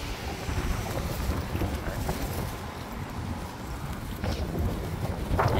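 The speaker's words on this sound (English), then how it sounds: "It's wind." Wind blowing outdoors, a steady broad rushing buffet across the microphone with a few brief gusty bumps, loud and continuous throughout, with no speech.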